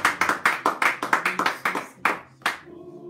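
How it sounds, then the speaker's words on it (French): Church congregation clapping hands, a dozen or so sharp, fairly loud claps in a quick irregular rhythm that slows and trails off into a faint sustained tone. "Applaudissons pour les Seigneurs."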